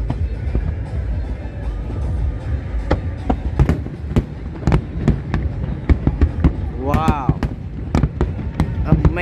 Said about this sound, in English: Amazing, luxurious fireworks.